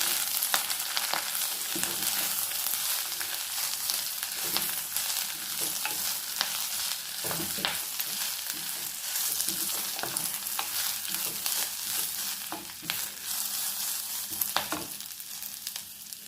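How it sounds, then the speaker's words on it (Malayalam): Drumstick leaves fry in a pan and are stirred slowly. A steady, close sizzle runs throughout, broken by occasional scraping strokes of the spoon, with no talking. "ആ കൂടെ നമ്മുടെ മുരിങ്ങയില ഇതൊക്കെ വെച്ചിട്ടുള്ളതും കൂടെ ഇടാം. അപ്പോൾ ഒന്ന് പതുക്കെ ഇളക്കി കൊടുക്കാം."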